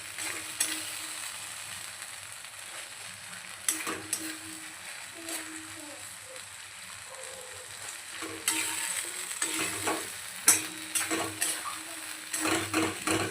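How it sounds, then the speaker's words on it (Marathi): Eggplant with masala sizzles softly in a pan while a spoon stirs and scrapes, giving intermittent clinks and scraping sounds over a constant low frying hiss, fairly quiet and without talking. "आपल्याला छान असा मसाला यात जाईपर्यंत आपल्याला छान असा हलवून द्यायचं परतून द्यायचं"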